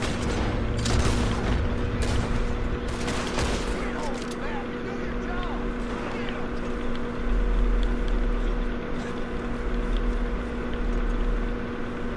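Gunfire in Red Dead Redemption 2, a cluster of sharp shots early on over a constant hum and low rumble, with a voice talking over parts of it.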